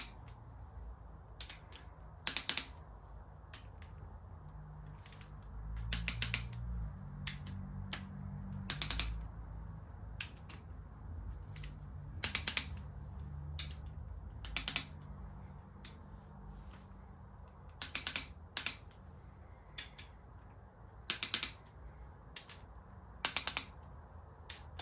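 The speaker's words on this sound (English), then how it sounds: "You're going to have to keep going around until you get a click on every bolt." A torque wrench clicks repeatedly while tightening intake manifold bolts on a Ford 351 Windsor V8 engine under rebuild, with sharp, fairly close clicks arriving in irregular bursts over a low background hum.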